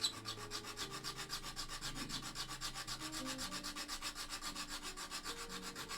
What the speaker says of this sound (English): filing stuff down like this